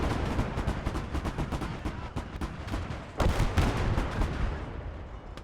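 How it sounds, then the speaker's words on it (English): Sustained machine gun fire from several guns in the video game PTSD Sim rattles in fast, overlapping bursts, loud and dense throughout, swelling into heavier booming volleys near the end. "Oh, that has like 4 machine guns"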